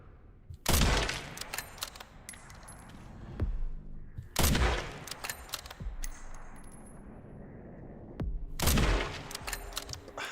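Three loud, sharp gunshot bursts ring out about four seconds apart as a player fires at blister-headed enemies in Resident Evil 9, each blast trailing into an echoing clatter.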